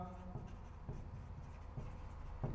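Marker or chalk scratching across a board during a physics lesson on units and dimensions, short repeated strokes in a soft, steady rhythm, close and quiet with no voice over it.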